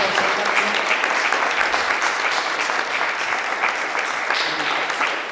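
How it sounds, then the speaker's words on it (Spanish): An audience at a literary talk claps loudly and steadily, a thick, sustained round of applause with no voices breaking through. "Bravo, un aplauso grande."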